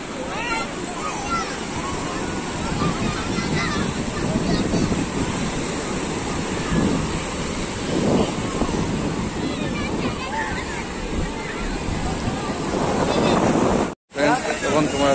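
Rough sea surf at Old Digha beach in West Bengal with bathers in the water, a continuous wash of waves and wind buffeting the microphone, while a person talks over it throughout and the sound cuts out briefly near the end.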